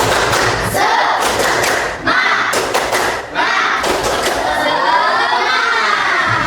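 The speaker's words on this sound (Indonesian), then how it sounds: "1, 2, 3, tepuk semangat." A class of sixth-grade children performs a rhythmic spirit clapping chant, bursts of patterned claps and thumps mixed with shouted chanting voices in several loud phrases separated by short pauses.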